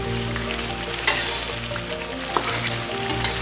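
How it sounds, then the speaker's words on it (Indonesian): Peanut sambal with blended tomato sizzles steadily in a pan while being stirred over a long cook, with a constant loud frying hiss broken by occasional scraping clicks of the spoon and no voices. "kita aduk sekitar 20 menit ya. Jadi kita aduk agak lama"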